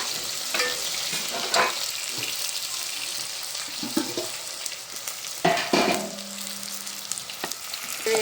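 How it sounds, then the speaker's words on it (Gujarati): Dried onions tossed into hot oil, a steady loud sizzle and crackle of frying with occasional stirring scrapes running throughout, close up. "હવે હું નાખી દઉં ઓનિયન સુકેલી ડુંગળી નાખી દીધી"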